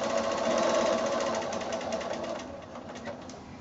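A sewing machine stitches bias binding onto a scalloped quilt edge, running in a steady, close, moderately loud whir of rapid needle strokes with no voices, easing slightly toward the end.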